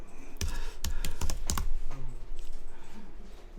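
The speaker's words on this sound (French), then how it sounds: "Alors, vous allez taper juste un mot." Someone typing a single word on a computer keyboard, a short burst of distinct, close key clicks in an uneven rhythm, then quiet, with no talking.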